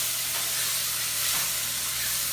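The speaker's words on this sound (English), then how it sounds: "Don't forget to keep sauteing this because you do not want it to burn" Chicken sizzling with curry powder as it is sauteed in a pot, a steady broadband frying hiss that holds evenly close by for a couple of seconds with no talk.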